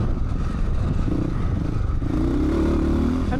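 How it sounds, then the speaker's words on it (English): A 1989 Rotax four-stroke dirt bike motor in CCM spec runs steadily, a loud close rumble with clattering mechanical texture and a slight rise in pitch toward the end. "This is a 1989 Rotax motor"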